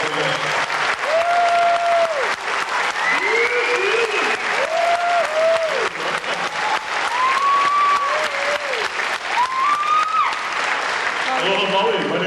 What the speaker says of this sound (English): How about a nice round of applause for them?